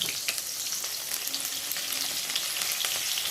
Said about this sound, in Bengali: রসুন আর পেঁয়াজটা একটু তেলের মধ্যে ভালো করে ভেজে নেব